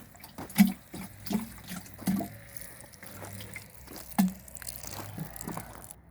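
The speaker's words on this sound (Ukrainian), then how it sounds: "Розводимо решту дрожжей в 10 літрах води, гарно розколочуємо і поливаємо ці помідори" Tomato plants are watered with yeast diluted in 10 litres of warm water, in a garden in the evening. Water pours and splashes in a few short, moderately loud bursts over a quiet background, with some faint dripping between them.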